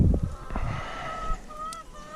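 Layer hens confined in a chicken tractor make clucks and drawn-out squawking calls, with a few low knocks and rustles at the start, fairly close and otherwise alone.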